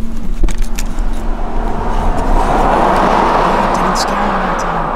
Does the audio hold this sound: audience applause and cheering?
no